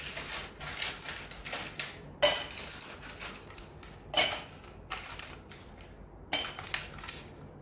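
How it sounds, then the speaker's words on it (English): Ice cubes are scooped and dropped into a cocktail shaker for a French martini in several loud, rattling clatters separated by short pauses, close and with no voices. "So we start off with putting ice in the shaker."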